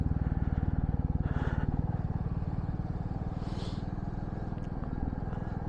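Royal Enfield Bullet 350 motorcycle riding on a mountain road to Sikkim, its steady thumping single-cylinder exhaust pulsing close and loud throughout, with a little wind and road noise over it.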